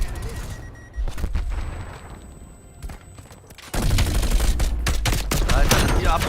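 Gunfire in Call of Duty Cold War Warzone, including a Bullfrog submachine gun: dense rapid bursts of shots, quieter at first, then a loud sustained fusillade, with players talking over it.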